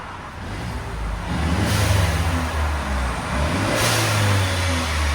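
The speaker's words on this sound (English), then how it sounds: "2018 Mercedes-Benz CLA 250 Turbo. This is what it sounds like before." The 2.0L turbo engine of a 2018 Mercedes-Benz CLA 250 with stock exhaust revs twice, each a smooth, fairly muted rise and fall of a deep engine note, heard up close with no talking.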